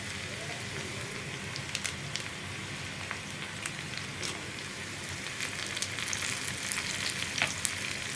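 Onions fry with dried red chillies in a pan, a continuous crackling sizzle like light rain, with occasional faint stirring scrapes, close and soft.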